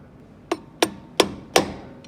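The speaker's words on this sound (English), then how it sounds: "So I'll hammer that back on." Four sharp metallic hammer blows, evenly spaced and close, knocking a nut back onto the clutch bolt of a Thwaites dumper truck during a workshop dismantle, followed by a faint fifth tap.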